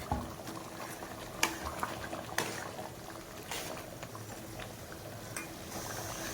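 A pot of mutton gravy with capsicum simmers quietly, with gentle bubbling broken by occasional soft clicks and taps.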